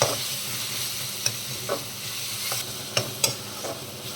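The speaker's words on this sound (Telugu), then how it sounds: "పచ్చివాసన పోయే వరకు ఫ్రై చేసుకుందామండి." Curry leaves and ginger-garlic paste frying in a pan for a stuffed brinjal curry, a steady sizzle broken by a few sharp spoon scrapes and taps, close and alone with no talk.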